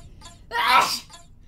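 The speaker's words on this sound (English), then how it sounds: "I gotta sneeze." A person sneezes once, a loud burst rising abruptly and fading within half a second, with faint breathy voice sounds just before and after.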